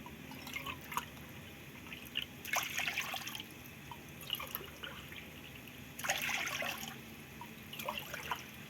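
A cup of water is poured into a pan for heating, in a home kitchen where dough for date-jaggery puli pitha is being made; two short splashing pours stand out against quiet background noise.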